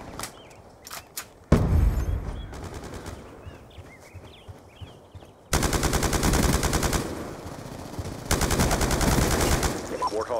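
Call of Duty Black Ops II free-for-all on the Rush map: scattered single shots give way to long, loud bursts of rapid automatic gunfire that run almost unbroken through the second half, close and dominant.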